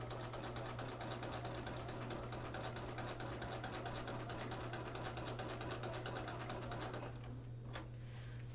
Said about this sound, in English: we're going to go ahead and stitch across on that line